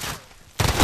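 Rapid enemy gunfire from a fast-firing weapon in the Modern Warfare video game, a dense burst that starts suddenly and loud after a quieter moment.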